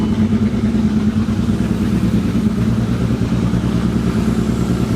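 A VW Mk4 R32 engine just started for the first time runs rough and loud with a vacuum leak, holding a steady, uneven low idle throughout with no talk over it.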